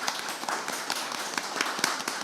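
An audience at a two-wheeler showcase applauds an insurance expert coming on stage, with steady, full clapping filling the whole moment at a fairly close, even level.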